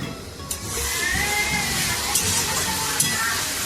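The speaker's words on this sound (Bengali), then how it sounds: "এবারে একটু একটু করে জল দিয়ে দিয়ে কষাবো।" Spice masala being sautéed in a pan while water is added a little at a time, giving a loud, continuous sizzle and hiss with a few sharp spatters and stirring scrapes.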